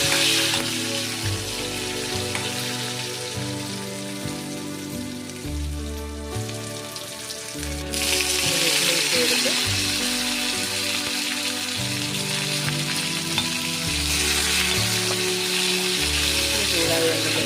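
Curry leaves hit hot oil already holding onions and dried red chillies in a pan for pumpkin pachadi, giving a loud, steady crackling sizzle that swells partway through beneath a layer of background music.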